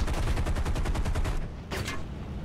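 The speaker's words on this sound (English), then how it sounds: "Use up my cannon ammo, use up my machine gun ammo without crashing into the water" Spitfire Mk 16 cannon and machine guns firing in War Thunder, a rapid steady stream of loud close bursts that breaks off briefly, then resumes with a short final burst.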